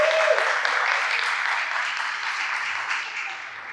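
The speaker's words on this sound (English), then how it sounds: "Let's give her a round of applause." A conference audience at a Seattle Southside Chamber leadership event gives a round of applause, an even, continuous patter of many hands clapping that fades slightly toward the end.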